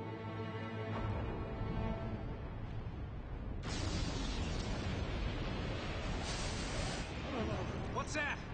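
Explosion in a video game: a tonal hum gives way to a sudden loud blast at about three and a half seconds, followed by sustained hissing rumble and crackling bursts toward the end.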